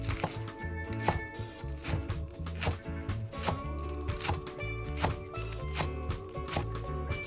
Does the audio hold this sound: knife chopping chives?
yes